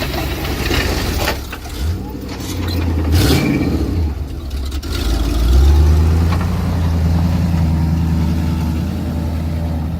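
A 1988 Chevy one-ton plow truck engine rumbles and revs as the truck climbs up onto a snowbank in winter, a steady close low drone with a surge partway through, while a voice talks over it.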